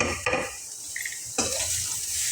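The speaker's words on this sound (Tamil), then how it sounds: "இப்போ நம்ம எல்லாம் காய் கட் பண்ணி வச்சுருக்கிற காய் எல்லாத்தையும் நம்ம போட்டு கிளறி விடலாம்." Chopped vegetables being stirred into sautéed onions for masala oats, a soft scraping stir with a light sizzle in the pan and a couple of brief utensil scrapes, fairly quiet and steady.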